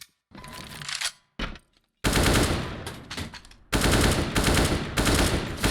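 Gunfire in CS:GO's Trouble in Terrorist Town mode: loud, dense automatic bursts with a few short stuttering volleys at the start, then long, sustained strings of rapid shots separated by brief gaps.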